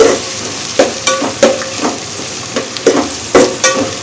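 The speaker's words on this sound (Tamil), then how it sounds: "எல்லாத்தையும் நல்லா வதக்கி எடுத்துக்கிடலாம். இப்போ கேஸை ஹை ஃப்ளேம்க்கு நான் கன்வெர்ட் பண்ணிட்டேன்." Vegetables sautéed in a pan over a high gas flame for coconut rice, a steady sizzle broken by repeated scraping stirs of a spatula, close and fairly loud, with no talk.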